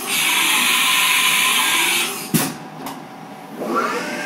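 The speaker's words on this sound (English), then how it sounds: "Now it's switched to a center drill." A center drill spotting a hole in metal on a machine, a steady high whine of the spindle and cut that stops abruptly with a brief clatter, then quiet hum, close and loud.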